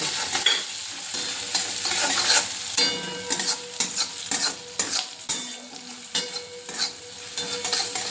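Green chili sautés in hot oil in a pan, giving a steady close sizzle broken by scraping stirs and light clinks of a spoon against metal, with no voices.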